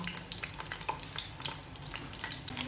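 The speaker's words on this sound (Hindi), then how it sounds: "ये प्याजों को अच्छी तरह से हम सुनहरा ब्राउन करेंगे इसमें" Onions fry in hot ghee toward golden brown for aloo palak, a crackling, bubbling sizzle close by with small irregular pops and stirring throughout.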